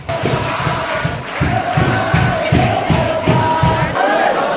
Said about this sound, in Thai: กองเชียร์